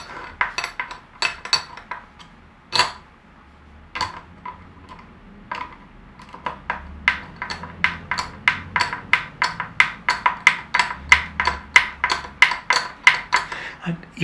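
Screw being driven into the plate of a Tele-style guitar body, a run of sharp metallic clicks and ticks that starts sparse and grows into a quick steady rhythm, close and fairly faint.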